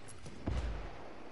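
Grenade blast in the Ghost Recon shooter game, a single muffled low boom of moderate loudness arriving partway through and fading quickly.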